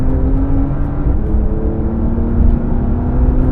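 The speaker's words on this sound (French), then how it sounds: "on entend surtout le moteur" Porsche 911 Dakar engine revving with a steady, loud drone and a strong low rumble that holds continuously throughout, heard from inside or close to the car.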